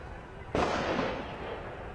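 A single sharp report from an armed encounter between security forces and militants in Budgam, Jammu and Kashmir, striking suddenly and trailing off in a long reverberant echo over steady background noise.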